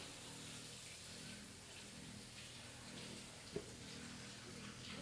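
A kitchen tap runs steadily, a soft continuous rush of water filling a container, with one small clink partway through.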